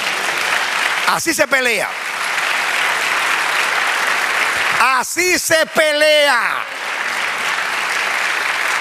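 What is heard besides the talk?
congregation applause in church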